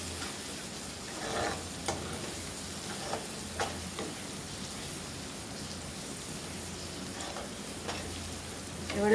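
A spice masala with garam masala, meat masala and slit green chillies sizzles steadily in a pan for a Bengali chicken curry, with soft periodic scraping of a spatula stirring it and a steady frying hiss.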